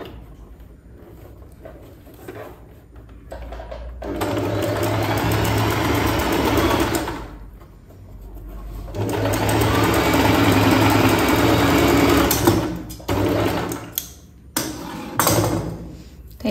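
A sewing machine stitches a folded four-inch hem on a pattupavada skirt, a loud steady motor hum running in two long bursts with short pauses and a few knocks between them.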